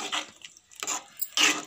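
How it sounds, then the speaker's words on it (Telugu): A small glass of water poured into ridge gourd and chana dal curry in a pot, three short splashing pours in quick succession, close and fairly quiet. "కొద్దిగా వాటర్ పోసుకోవాలండి"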